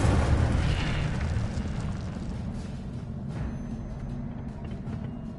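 Incendio fire spell cast in the game Hogwarts Legacy: a loud, broad whooshing burst of flame at the start that settles into a sustained roaring rumble, with faint crackles over the following seconds.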